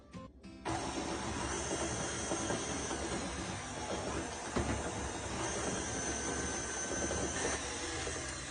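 An electric mixer switches on with a click and then whirs loudly and steadily, churning yeast, sugar and baking powder for white bread dough, close up with no talking.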